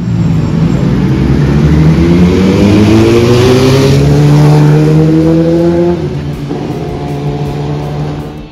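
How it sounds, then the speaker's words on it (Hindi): Sport motorcycles, a Kawasaki and a Honda CBR, rev up close and loud, engine pitch climbing steadily for several seconds before dropping back to a lower drone. "फुल स्पोर्ट बाइक खड़ी है दोनों यहाँ पे, एक कावासाकी की और एक है CBR आई थिंक।"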